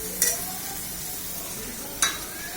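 Onion paste frying in a pan for mutton kosha, a steady close sizzle with two sharp scraping strokes of a spoon against the pan as it is stirred, no voices.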